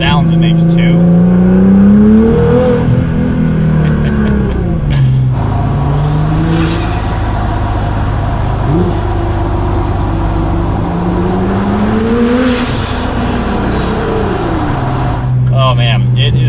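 A tuned Nissan R35 GTR engine revs loudly and close, its pitch climbing and falling in several sweeping pulls with a brief lull in between, while a voice talks over parts of it.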